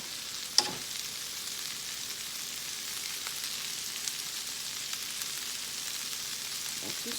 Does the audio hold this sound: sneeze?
no